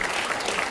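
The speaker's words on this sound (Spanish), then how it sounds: "Un doble aplauso." A short burst of dense applause from an audience at a Christmas paranda concert, loud and close, a continuous wash of many hands clapping.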